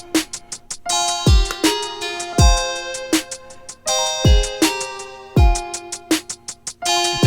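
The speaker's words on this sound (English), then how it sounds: "I've added a kick drum pattern to this" A beat built in BeatMaker 3 with a kick drum pattern added, deep booming kicks landing under a repeating pattern of sharp percussive hits and pitched tones, loud and steady over several bars.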